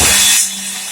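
A power tool runs with a loud, harsh rasping whine up close, then drops to a lower, quieter hum as it winds down within a second.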